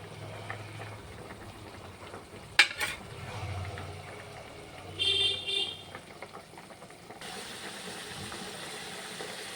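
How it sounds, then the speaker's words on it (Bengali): Fish dropped into water at a rolling boil in a pan for a Bengali-style fish jhal, with a soft steady bubbling hiss, a sharp utensil clink and brief louder bursts of simmering. "এই যে জলটায় ফুট ধরেছে, এবারে আমি মাছগুলো দিয়ে দিলাম।"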